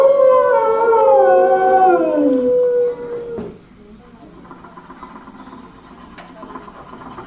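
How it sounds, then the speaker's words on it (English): An old 1920s exercise machine in an animatronic attraction scene. A whining tone slides downward and cuts off, then a quieter, steady mechanical rattle and clatter runs on at mid distance. "using that old exercise machine she rescued from the attic"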